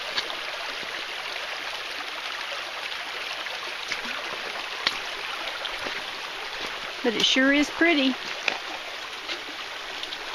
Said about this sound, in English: Ooh, look, some really fast water there